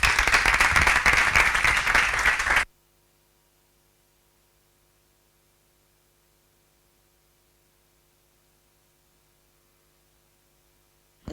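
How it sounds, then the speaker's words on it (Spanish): Audience applause breaks out loud and dense for about two and a half seconds, then cuts off abruptly into near silence with only a faint hum. "pido un aplauso para ellos dos"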